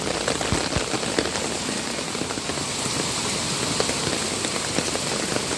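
Heavy rain falling hard on hot, humid streets, a dense steady hiss broken by scattered sharper drops and splats, close and loud for the whole stretch, with no voices.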